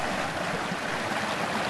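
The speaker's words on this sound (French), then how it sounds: "Pour vous montrer cette cascade," A small waterfall cascades down from a plateau into a valley, giving a steady, even rush of falling water that runs alone throughout, with no voices over it.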